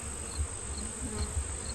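Honey bees during a September hive inspection, a soft steady buzz of many insects close by, with a few louder passes and low thumps beneath.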